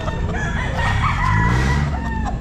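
A Sweater gamefowl rooster crows loudly at a busy pet market, its drawn-out call set against dense background crowd noise and other clucking birds.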